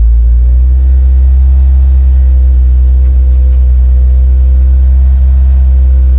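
Renault Clio 3 RS petrol engine held steady at 2000 rpm through its stock exhaust, a loud, constant deep drone and rumble close to the car, with no change in pitch.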